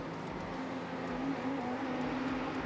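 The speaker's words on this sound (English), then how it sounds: "So the Lamborghini gets out of the last corner." A Lamborghini race car in the iRacing sim at Sebring holds a steady, droning engine note as it exits the last corner. The engine runs continuous and mid-level throughout, with no talk.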